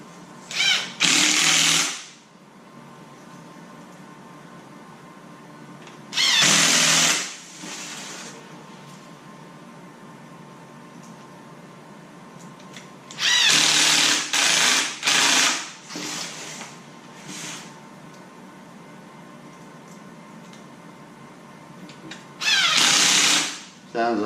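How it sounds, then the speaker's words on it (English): A cordless drill driving screws into a stone crab trap, several separate whirring bursts of a second or two each, loud and close, separated by quieter stretches with faint background noise. "Now I can just take screws, cinch them down"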